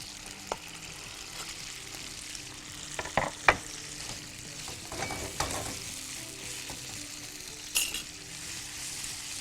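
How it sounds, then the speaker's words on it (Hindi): Finely chopped chicken sizzles and fries in a pan, a steady broadband hiss with a few sharper clinks and stirring scrapes of a utensil against the pan scattered through it, no talking. "और उसके बाद इसमें मैं डाल दूंगा चिकन जो हमने बिल्कुल बारीक काट के रखी है"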